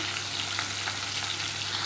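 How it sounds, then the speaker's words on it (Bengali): Fish fries in oil in a kadai, giving a dense, continuous close sizzle with fine crackling throughout and no voices. "এদিকে মাছ ভাজা চলছে একদিকের কড়াতে"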